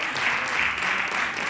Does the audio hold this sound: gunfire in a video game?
no